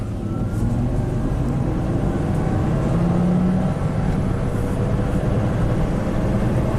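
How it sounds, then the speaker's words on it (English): A Volvo turbo car, running rough on about four and a half cylinders, accelerates hard from a standstill on the road in a 0-to-60 run, its steady low engine drone filling the cabin with no talk. "Alright, let's do a little 0 to 60 run. Pull out on the road here."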